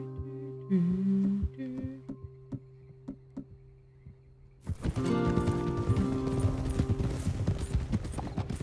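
Horse hooves clip-clopping in Red Dead Redemption 2, a run of sparse knocks and thuds that gives way to a denser, louder stretch of galloping and game noise.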